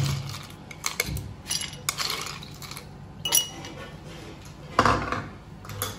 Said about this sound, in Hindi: सबसे पहले हम ग्लास में आइस डालते हैं। 4 से 5 क्यूब हम आइस के डालेंगे।